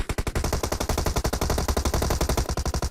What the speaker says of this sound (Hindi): अब फिर से मेरे को साउंड आती है फायरिंग की